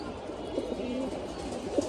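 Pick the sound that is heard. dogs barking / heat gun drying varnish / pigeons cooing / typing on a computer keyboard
pigeons cooing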